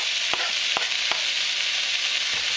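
Tomatoes fry with softened onions in a pan, a steady, close sizzle broken by a few sharp clicks of a utensil against the pan, with no voices.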